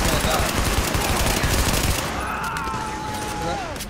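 Rapid automatic gunfire in a video game shooter, loud dense bursts that hammer for about two seconds, then give way to a quieter stretch with faint voices in the background.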